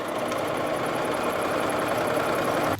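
A sewing machine running continuously while gathering fabric, a steady dense mechanical whir with a fast regular stitching rhythm, close and unbroken for the whole stretch, with no talking.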